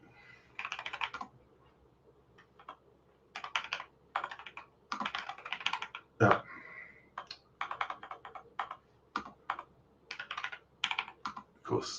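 Bursts of fast typing on a computer keyboard come in irregular clusters with short pauses between them, close and clear, with one brief spoken word in the middle.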